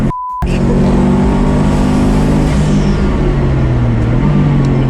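Subaru WRX GC8 with a built engine on the Luddenham Raceway track, a loud close engine note that climbs steadily in pitch under acceleration, dips briefly, then rises again. A short tone sounds at the start.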